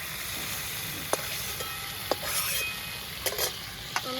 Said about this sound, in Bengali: এই যে দেখতে পাচ্ছ, বেশি একটা ভাজিনি, হালকা ভাজলাম, এখন নামিয়ে নেব।